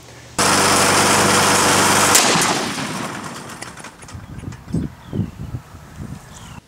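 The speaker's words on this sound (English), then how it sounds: "the only way to get rid of it is to shoot it with a 500 Smith & Wesson Magnum" A .500 Smith & Wesson Magnum revolver fires once at a lawn mower. The blast comes after a loud, steady engine drone and is followed by a long, decaying echo with scattered thumps. It is outdoors and close.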